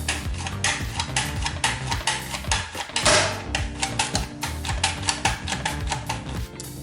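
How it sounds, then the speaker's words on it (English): Cabbage sliced on a mandolin slicer: rapid, rhythmic rasping strokes in quick succession, close and fairly loud, with a brief rougher burst partway through and no talk. "So the first thing I want to do is really just slice our cabbage."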